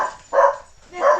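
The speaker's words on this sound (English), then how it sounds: "That would be the dogs." Two short, loud barks from dogs set off by a roommate entering the room, close by, with no talk over them.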